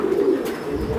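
A Makra breed pigeon gives a low, close, resonant coo in one short continuous phrase.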